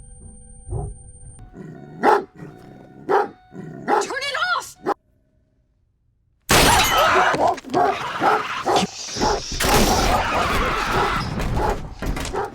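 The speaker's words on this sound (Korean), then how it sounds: "곧이어 걔는 짖으며 위험을 감지하기 시작합니다" Dog barking and yipping in a tense horror-film scene, sharp repeated barks mixed with whimpers and a voice in the first seconds, then a sudden loud burst of chaotic noise after a short silence.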